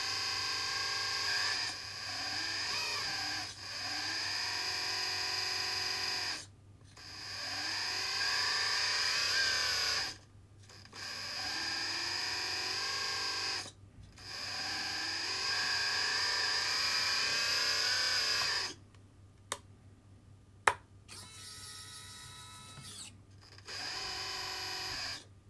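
A Kabolite K961-100S RC excavator moves a small hydraulic tub, its electric hydraulic pump whining in sustained rising and falling bursts separated by short pauses, with a few sharp clicks near the end and no voices.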